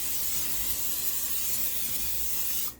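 A steady, continuous hiss of non-stick cooking spray coating a bundt pan, close and even for a couple of seconds before cutting off.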